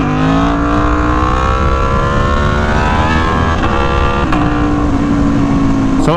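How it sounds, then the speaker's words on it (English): An Aprilia Tuono V4 1100 motorcycle held at high revs on a dynamometer, a loud, sustained engine drone that climbs in pitch and eases with each shift, with a brief dip near the end. "as the bike is being run on the dynamometer"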